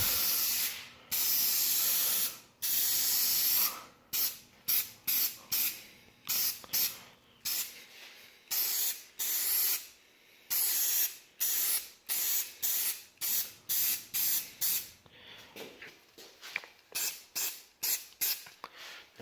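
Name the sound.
spray painting Gloss Pumpkin Orange paint on motorcycle parts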